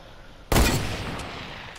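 A single sharp rifle crack from a hunting rifle in a video game, sudden and loud after a quiet moment, with a brief echoing tail fading away.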